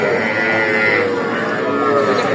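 A young Sahiwal bull calf, about two and a half to three months old, gives a single drawn-out moo at close range, loud and clear against faint background noise.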